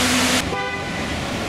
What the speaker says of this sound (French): Voilà une place fort encombrée de voitures.